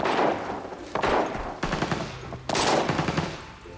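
Rapid bursts of FAL rifle fire in the game Arena Breakout, three sharp volleys in quick succession, loud and close with no talking.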